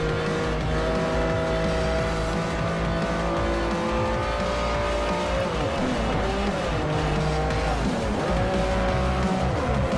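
A Lamborghini race car in Forza Horizon 4 roars loudly and continuously as its engine revs up and down through gear changes during a race, with tire squeal mixed in.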